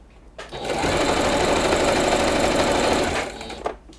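A sewing machine stitches fabric for a cloud-shaped cushion, whirring loud and close in one steady burst of about three seconds that starts and stops abruptly, followed by a small click.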